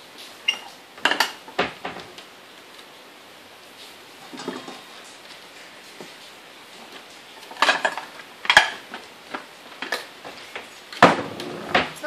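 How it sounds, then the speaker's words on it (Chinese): Sugar and cornstarch are stirred in a bowl while making a yogurt cake, giving sparse, quiet clinks and scrapes of a utensil against the bowl with short pauses between clusters. "糖跟玉米粉我稍微搅拌一下"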